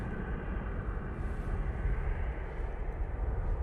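A Jet2 Boeing 737 departs Manchester Airport, its engines a steady broad roar heard at a distance, even and unbroken throughout with no voices.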